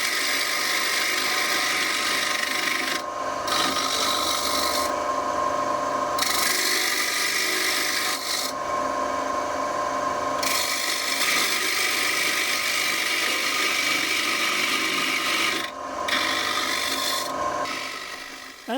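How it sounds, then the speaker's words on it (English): A wood lathe cuts with a tool guided by a sphere and hollowing jig, producing a rough continuous rasping and scraping, repeatedly broken by brief pauses as the cut stops and resumes. "Position the tool and proceed to take the first cut."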